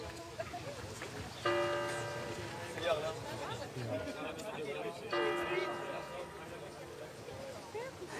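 A church bell in a village of the Thiérache region of France rings out twice, each clear resonant strike ringing on beneath a narrator's continuous speech.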